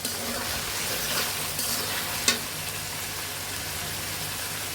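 Chicken and raw jackfruit fry in a pan with green chilies and tomato, giving a steady, broad sizzle throughout with a faint clink of stirring partway through.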